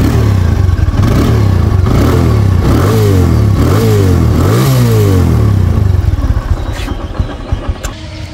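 A 2019 TVS Apache RTR 160 motorcycle engine runs close by, revved repeatedly in rising and falling bursts before easing back to a steady idle.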